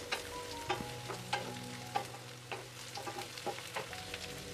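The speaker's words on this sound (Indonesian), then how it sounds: "Selanjutnya aduk-aduk sebentar sampai bumbunya tercampur merata dengan ikan tunanya." A spoon stirs fried tuna into cooked spice paste in a hot pan, giving soft scraping strokes at an uneven rhythm over a continuous quiet sizzle, heard close up.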